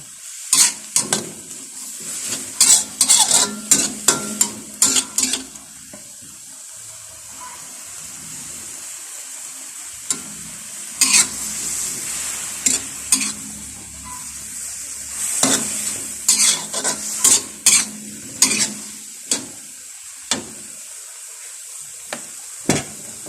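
Pork liver stir-fried with beans and holy basil in a pan, with repeated scraping and stirring strokes over a steady sizzle, coming in bursts with short pauses between.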